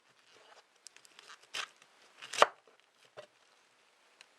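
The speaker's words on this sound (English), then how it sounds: "Now, slicing it up. Got a good sharp knife." A sharp knife slices through a cauliflower in a kitchen, giving a few sparse, crisp cuts and two louder crunching strokes. The sound is quiet and close, with no talking.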